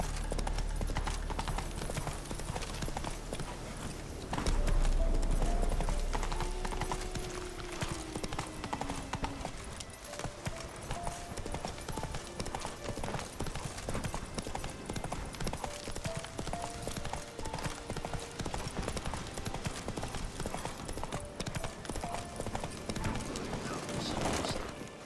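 Roach, the horse in The Witcher 3: Wild Hunt, gallops with a steady run of hoof clip-clops throughout, mixed with in-game ambience and a brief whinny-like cry.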